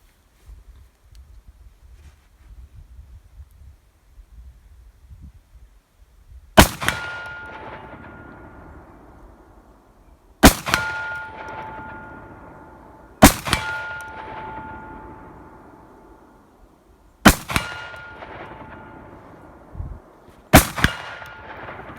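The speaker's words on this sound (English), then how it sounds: "Gotta love a shotgun." A defensive shotgun firing 1-ounce slugs, five loud sharp reports spaced a few seconds apart, each followed by a ringing metallic decay, in an outdoor setting.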